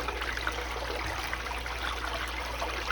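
Steady trickling water runs over a VDR sluice mat while processing Lake Superior concentrates for gold, a continuous close wash of flow with no voices.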